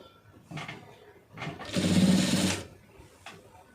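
Sewing machine stitching a seam on a blouse, heard as short bursts of whirring stitches, then a longer, louder run near the middle, close and alone without talk.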